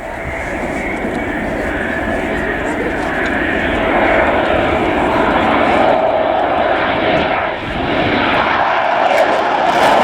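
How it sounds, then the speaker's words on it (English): A C-130 aircraft touches down at an air tattoo show, its steady loud propeller-engine roar filling the scene continuously with a brief dip near the end, with commentary voices talking over it. "it's a safe landing for the C-130"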